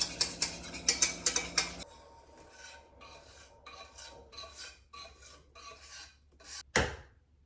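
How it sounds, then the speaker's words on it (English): A whisk beats brown sugar into brown butter in a bowl, brisk loud metallic scraping strokes at first, then softer rhythmic swishes and taps, close up with no voices. "I'm going to add my brown sugar to my brown butter, and I'm gonna whisk it for a minute to get some air in there"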